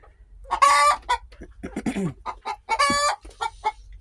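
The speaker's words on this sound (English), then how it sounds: "I hope you enjoyed the last few minutes of a wonderfully loud egg song" A hen sings her loud egg song, insistent clucks and squawking cackles in bursts, close by, with short pauses between calls.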